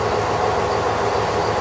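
A train rolls along a locally run Japanese railway line, a steady close rumbling rush of wheels and carriage noise with no break and no talking.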